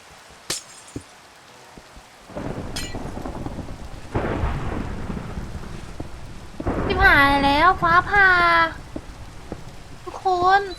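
Rain pours and thunder rolls in Minecraft: a sharp crack, then a long rumbling downpour that grows heavier, with a voice talking over the storm toward the end.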